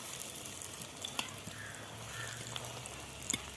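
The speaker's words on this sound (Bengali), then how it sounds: "ডিম ভাজা হয়ে গেছে" An egg fries in oil in a pan with a soft, steady sizzle at low volume. Scattered light crackles and a few sharper ticks run through it, and no one speaks.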